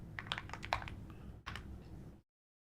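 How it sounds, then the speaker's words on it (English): Quick bursts of typing on a computer keyboard, close and fairly quiet: a cluster of clicks, a short pause, then another run of keystrokes before it stops. "Let me just finish typing this."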